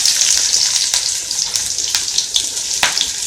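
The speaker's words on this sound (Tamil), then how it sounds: "ஆயில் வந்து சூடாயிடுச்சு இப்போ வெங்காயம் போடலாம்" Onions dropped into hot oil in a pan crackle and sizzle continuously, with brief sharper spits and stirring scrapes, close and loud.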